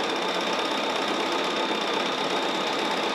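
Computerized sewing machine runs continuously while stitching a long quarter-inch seam, giving a steady, fast mechanical whir and rapid needle chatter at close range.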